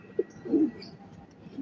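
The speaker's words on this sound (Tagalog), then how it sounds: "ayan yung ating kalapate, oh" A light checkered racing pigeon, released from Mexico, Pampanga, gives a soft low coo as it arrives at the loft, close and brief amid quiet background noise.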